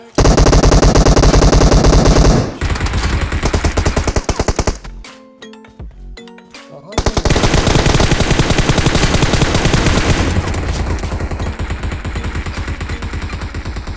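Automatic gunfire in a PUBG Mobile fight bursts in loud, dense rapid volleys, drops to a short quieter gap with scattered shots, then resumes in sustained fire.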